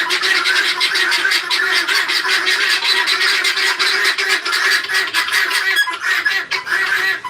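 A flock of guinea fowl at a poultry yard gives loud, rapid, repetitive honking cries, a dense nonstop chorus close at hand.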